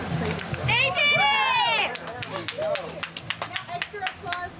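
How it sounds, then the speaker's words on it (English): Children and adults cheer at a nighttime horror campout, then a burst of quick, close hand claps follows, rising and fading as voices talk and shout over it. "extra applause for our friend right here, since you eat two"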